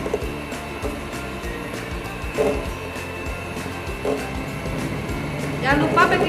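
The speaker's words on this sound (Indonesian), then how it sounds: "masukkan terigunya sedikit-sedikit, kemudian di mixer menggunakan kecepatan rendah" An electric mixer runs on low speed, blending flour and cocoa powder into brownie batter with a steady motor whine throughout, while a voice speaks over it.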